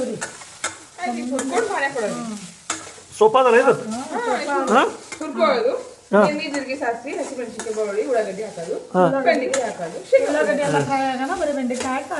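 Okra (bhendi) fries in an open, uncovered pan with a steady sizzle and stirring, heard beneath almost constant lively talk between people nearby.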